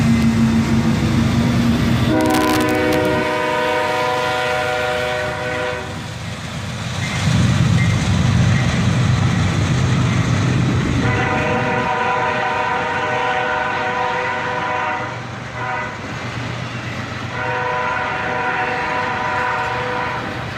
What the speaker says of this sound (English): This train is a 2-locomotive CSX Autorack train.